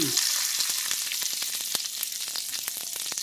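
Steak fingers sizzle steadily in a pan while being flipped, a dense hissing fry broken by sharp crackles and pops, close and fairly loud, with no talking.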